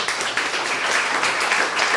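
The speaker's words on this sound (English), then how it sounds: "So big round of applause for that team out in Vancouver" Steady audience clapping for a Vancouver ARKit demo team at a tech presentation, a dense, even patter of many hands with no voices.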